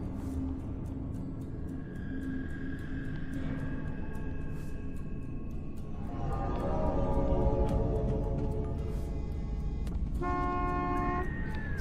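A car horn honks several times in a field at night, with short steady tones and a longer blast over the hum of an idling engine.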